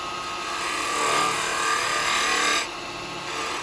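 A carbide chisel cuts into a piece of firewood log spinning on a lathe while turning a Christmas bell, giving a steady loud rasping hiss that swells mid-cut and then drops abruptly as the tool lifts away.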